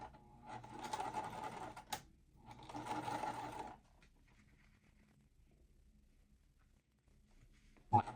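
A sewing machine stitches quilt pieces in two quick bursts of steady whirring, each lasting a little over a second with a short pause between, followed by quiet and a sharp click at the end.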